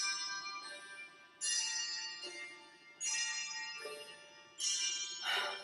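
Resonant bells ring out in slow, evenly spaced strikes, each chime swelling and lingering before the next, about every one and a half seconds.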